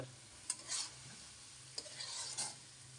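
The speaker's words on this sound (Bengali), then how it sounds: "আর একটু ভাজা ভাজা করবো কারণ ডিমটা পুরোপুরি এখনো ঝুরঝুরা হয়নি" Scrambled egg with bottle gourd is stir-fried in a pan with a little oil. A spatula scrapes twice over a soft, constant sizzle, quiet and close.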